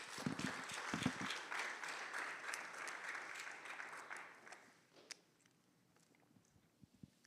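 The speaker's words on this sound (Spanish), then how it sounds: "Vamos a darle un fuerte aplauso al Señor." A church congregation gives strong applause to the Lord, dense clapping from many hands that holds steady for several seconds, then fades into a quiet room with a few stray claps.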